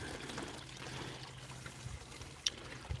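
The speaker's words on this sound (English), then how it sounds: "We're just going to let this sluice do its clean out thing" Water runs steadily through a gold sluice box during a clean-out, a soft continuous trickling wash with a low hum beneath and a brief sharp knock near the end.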